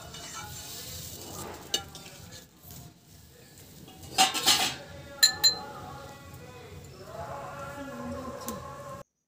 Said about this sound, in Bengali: কষিয়ে নেব যতক্ষণ না আদার কাঁচা গন্ধটা যাচ্ছে।